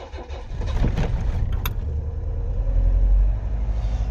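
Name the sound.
Austin Allegro car engine starting with choke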